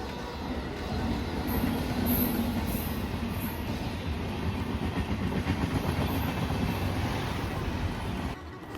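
A train rolls past at Tripunithura railway station, a loud continuous rumble and rattle of wheels and carriages heard close up for several seconds, with wind buffeting the microphone before it suddenly drops away.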